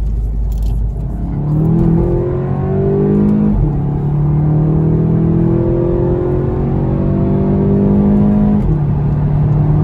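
A Volkswagen Golf 7 GTI with 230 hp accelerates around a roundabout. The engine note climbs steadily, drops briefly at shifts, then climbs again, loud and close throughout.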